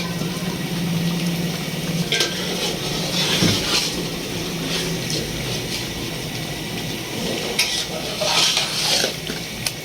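Three kilograms of large chicken leg pieces go into hot ghee for Karachi biryani, giving a loud, steady sizzle with scraping and stirring clatter throughout, no talking.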